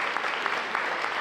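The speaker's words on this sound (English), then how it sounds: "let's give a round of applause for Tito, Art Coleman" A crowd at a school district address applauds, a short, moderately faint burst of steady clapping with no speech on top.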